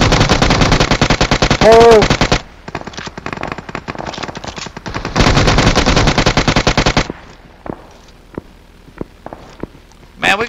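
Rapid automatic gunfire in PUBG Mobile rattles in long loud bursts, then fades to scattered distant shots, with players talking over the action.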